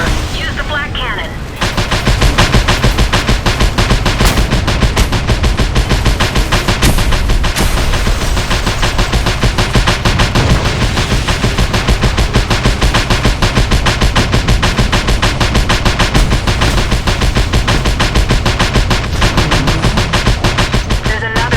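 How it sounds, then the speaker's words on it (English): Rapid, loud flak cannon fire in the video game Just Cause 2 during a fight with a hostile helicopter, a dense unbroken barrage of blasts with constant mechanical clatter that runs almost the whole time. "Incoming hostile chopper. Use the flak cannon."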